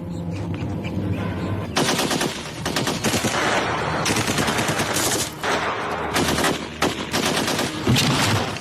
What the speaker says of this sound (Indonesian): Pasukannya mengepung ketat, tapi tembakan mereka semuanya meleset.